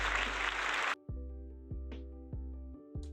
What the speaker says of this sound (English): I'll edit the applause in.